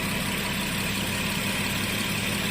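An Audi Q7 engine idles steadily after running for over an hour, a continuous even hum with low rumble and broadband hiss, no pauses or revving, heard alone without speech.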